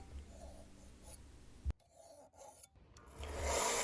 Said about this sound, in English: Now going back to my standard file, I begin to work on the belly of the knife